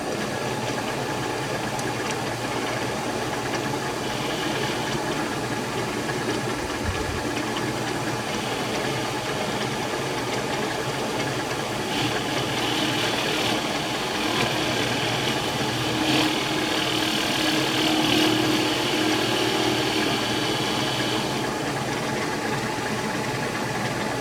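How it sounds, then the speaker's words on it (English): Counterboring drilled holes in a clamped peg board for lathe tooling gives a steady, loud machine drone with a grinding, buzzing cutting tone that holds throughout, swelling slightly midway. "I'm going to try and counterbore this."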